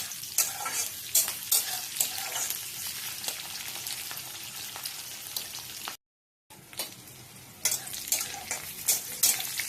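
Onions and curry leaves frying in oil for sambar, a steady close sizzle with stirring scrapes and spoon clinks, briefly cut out near the six-second mark.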